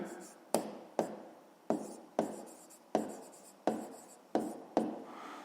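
Handwriting strokes on a board during a fifth-grade math lesson, a series of about eight sharp taps each trailing into brief scratchy scribbles, close and moderately quiet without talk.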